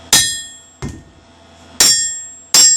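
Four sharp ringing strikes from a framing hammer on hot metal during blacksmithing, spaced unevenly, loud and close, each with a bright metallic decay.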